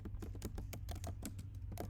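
Fingers type quickly on a computer keyboard, a brisk run of light clicking keystrokes, close and moderately quiet, over a low steady hum.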